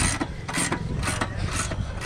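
Posi clamp being tightened on a No-Mar tire changer spool, gripping a motorcycle rim; a steady run of close, dry ratcheting clicks over about two seconds, with no talking.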